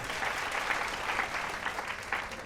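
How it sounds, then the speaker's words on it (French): An audience at a fashion show applauds a candidate, with steady, dense clapping throughout at moderate level and no talking over it. "Des applaudissements pour elle."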